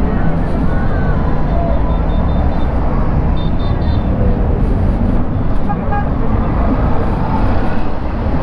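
Car horn on a 2023 Voltz EVS electric motorcycle in traffic, short toots buried in heavy, constant road and wind noise, with talk faintly present throughout.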